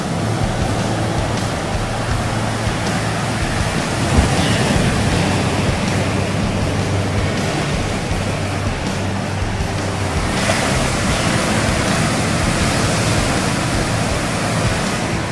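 Heavy swell breaking hard on the inside along a Sea of Japan beach on a calm, windless evening at low tide, a steady close roar of surf with no voices.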